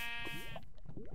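Sheep in a video game bleat twice, with a bright, wavering cry near the start and a second one near the end, clear and close over a faint tonal game background.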